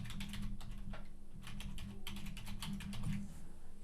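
Rapid typing on a computer keyboard, close and steady, with bursts of crisp key taps and a brief pause before another quick run of keystrokes over a low background hum.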